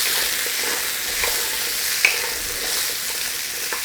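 Carrots sizzle and fry steadily in a hot pan, with a soft stirring scrape partway through and a continuous close, even hiss throughout.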